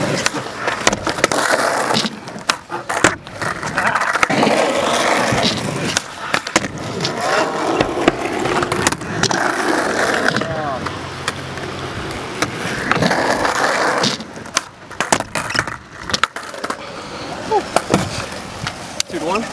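Skateboard wheels rolling and clattering on pavement during a backside flip attempt in a S.K.A.T.E.-style battle, with repeated board pops, slaps and scrapes over about twenty seconds, loud and near, with people talking over it.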